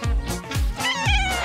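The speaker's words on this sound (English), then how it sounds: "Ooh, a kitty. Let's take you home." A kitten meows three times in quick succession, close and fairly loud, each cry a short rising-then-falling mew.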